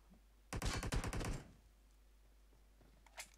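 AKM rifle fire in the video game PUBG: a rapid burst of about a dozen sharp shots in one second, fairly loud against a quiet background, followed by a faint distant crack.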